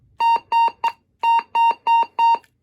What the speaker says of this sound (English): We try transmitting with it, it's going to just beep at us.